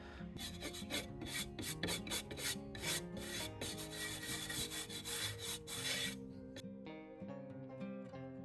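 A wooden tobacco stick is scrubbed by hand in rapid, rhythmic back-and-forth rasping strokes, fairly close, continuing steadily before easing into lighter rubbing near the end.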